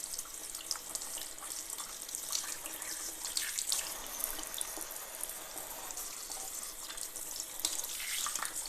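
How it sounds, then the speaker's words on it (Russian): Cold tap water running steadily over shrimp being rinsed in a sink, a continuous soft splashing hiss with small irregular splatters, fairly quiet and close, no voices. "Теперь промываем креветки под холодной водой."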